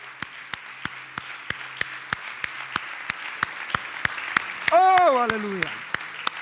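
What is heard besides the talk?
church congregation applause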